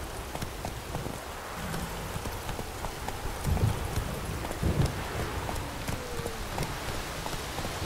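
Roach the horse's hooves clop in a steady trot in The Witcher 3, moderately close over a soft patter of rain, with no talking.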